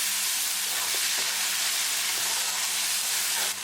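Tomatoes being stirred into a hot spice tadka in a pan: a steady, loud sizzle and hiss throughout, with faint scraping of the stirring spoon and no voices.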